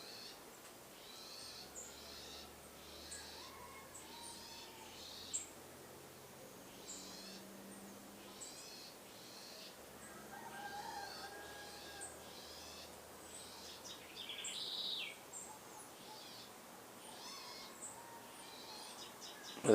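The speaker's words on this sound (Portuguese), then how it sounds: "Parece um pássaro ali gritando de dor." A bird cries out in a thin, strained call, as if in pain, amid faint repeated chirps and a soft background of insects, all fairly distant and quiet.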